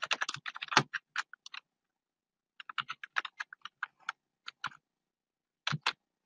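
Quick bursts of typing on a computer keyboard, close and fairly quiet, with a short pause between clusters of crisp key clicks.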